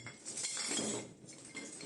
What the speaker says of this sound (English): After placing the glass shards and the whole bottles inside the heavy-duty bag